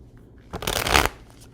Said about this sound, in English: these cards are very thick, which makes shuffling a little bit more difficult